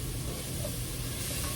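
Food sizzles in a hot pan while a Cowboy bowl from The Last of Us cookbook is stirred, giving a steady, even hiss throughout the short moment with no talking.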